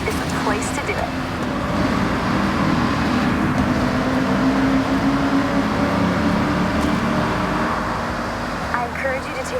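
A car engine drones steadily inside a long, rounded tunnel in Forza Horizon 6, its sound reverberating loudly and evenly, with a voice talking over it.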